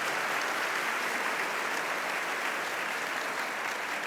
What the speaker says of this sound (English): that applause was for me